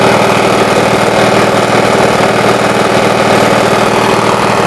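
A 20-G engine idles loudly and close by on a trailer, with a steady rough rumble and rapid, even firing pulses throughout.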